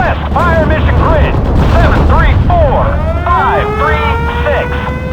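Artillery barrage in the Normandy 1944 strategy game Steel Division, with a steady low battlefield rumble, distant booms and whistling arcs of incoming shells sweeping across the scene, and a voice heard faintly under the noise.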